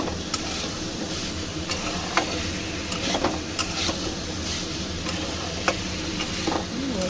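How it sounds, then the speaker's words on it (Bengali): Gathi kochu (taro) sautéing with spices in a pan: a steady low sizzle runs throughout, broken by scattered scraping stir strokes of a spoon against the pan, close and moderately loud, with no voices. "গাঁটির সঙ্গে মশলাটা আমি একটু ভালো করে কয়েক মিনিট ধরে কষিয়ে নেব"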